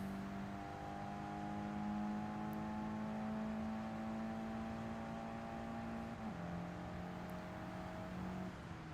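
A race car engine accelerating in the Gran Turismo game, a steady, fairly faint whine that climbs in pitch through the gears, with one shift dropping the tone before it rises again, no voices.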